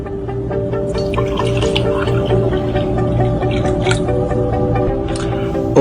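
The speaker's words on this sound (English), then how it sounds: "Unfiltered tap water, which we will pour in 2 glasses." Unfiltered tap water is poured into two glasses, a steady splashing trickle close by, with no talk.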